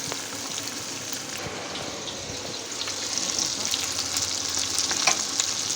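Chopped tomato fries in a pan with a steady, hissing sizzle and stirring scrapes, close and continuous, growing slightly louder toward the end.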